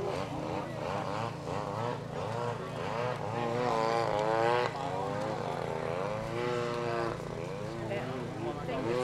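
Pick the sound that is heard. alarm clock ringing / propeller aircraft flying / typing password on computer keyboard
propeller aircraft flying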